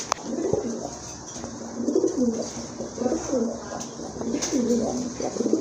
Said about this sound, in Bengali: আরেক জোড়া কবুতর নিয়ে আসছে ভাইয়া দেখতে পাচ্ছি